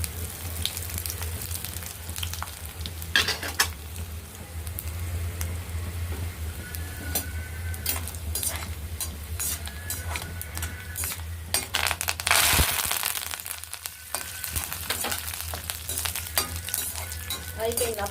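Dried red chilies crackle and sizzle steadily in hot oil with chana dal and urad dal, a tempering for raw mango and sesame chutney. The hiss is continuous and close, with occasional clinks of a utensil against the pan.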